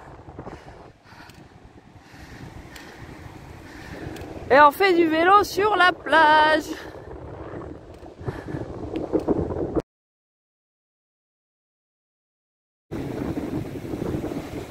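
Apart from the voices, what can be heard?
wind blowing into microphone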